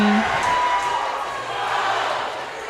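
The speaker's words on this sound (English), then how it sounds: "I got a little crowd war going on here between student sections." Rival student sections cheering and yelling at a girls varsity volleyball game in a gym, a steady, reverberant roar of crowd voices at moderate distance.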